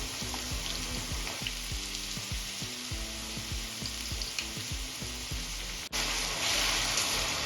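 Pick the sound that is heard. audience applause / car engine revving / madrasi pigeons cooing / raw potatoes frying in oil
raw potatoes frying in oil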